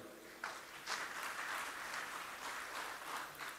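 A crowd applauds President Joko Widodo, a soft, distant wash of clapping that swells with a few brief surges and stays fairly faint throughout.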